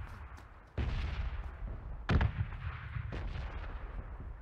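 Missile explosions in PUBG, three deep booming blasts about a second apart, each with a low rumbling tail, heard alone.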